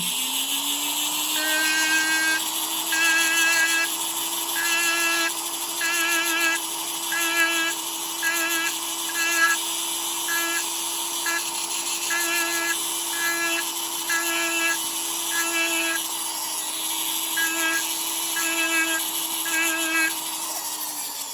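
A power tool polishes the feed ramp of a Canik MC9 pistol, a steady high whine running throughout with repeated short bursts of grinding as the bit is pressed against the metal in a regular rhythm.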